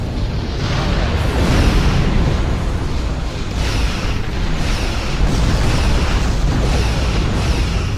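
Starship weapons fire and explosions roar in the space combat game Star Trek Online, a dense, continuous wash of rumbling blasts and booms lasting throughout with no distinct pauses.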